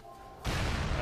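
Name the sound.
trip mine explosion in Halo: Reach video game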